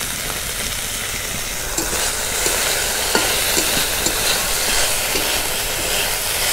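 Chicken frying in a pan with soy sauce in a village kitchen, a steady loud sizzle with scattered stirring scrapes throughout and no talk.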